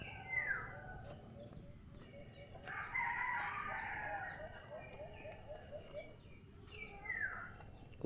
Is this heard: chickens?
yes